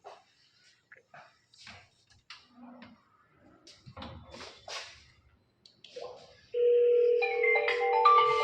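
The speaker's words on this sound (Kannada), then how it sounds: "ಸೊ ಇದು ವಿಡಿಯೋ ಡೋರ್ ಫೋನು" A video door phone's short electronic melodic chime rings out loudly near the end, after quiet scattered clicks and handling noises; a brief voice is heard faintly earlier.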